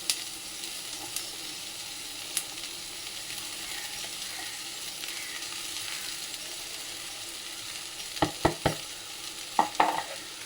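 Soaked poha for kanda pohe is gently stirred in a pan over a soft steady sizzle, with a few brief scraping strokes near the end.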